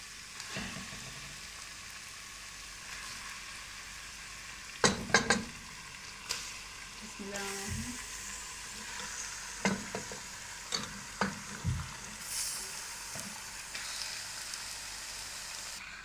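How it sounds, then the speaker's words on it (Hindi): Beef pieces fry in a pot with browned spice paste, giving a low steady sizzle under scattered stirring knocks and scrapes of a spoon against the metal. The sound is moderately close and no one speaks. "अब इसमें हम गोश्त डाल देते हैं सारा अपना"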